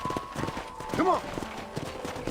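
Rhythmic hoofbeats of a galloping horse in the video game Red Dead Redemption clatter steadily, with a brief whinny in the middle, close and fairly loud.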